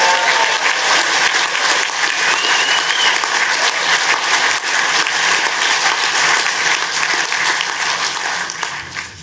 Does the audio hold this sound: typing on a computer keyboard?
no